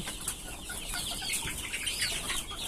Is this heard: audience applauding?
no